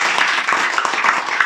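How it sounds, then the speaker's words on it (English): An audience at a leadership training session claps hands in a loud, steady, rhythmic beat of sharp claps that lasts the whole moment. "Everybody, clap your hands."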